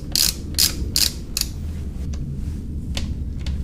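Torque wrench tightening the front axle of a Husqvarna FE 350 motocross bike, heard as a quick run of close, sharp ratcheting clicks that thin into a few fainter clicks over a low background hum.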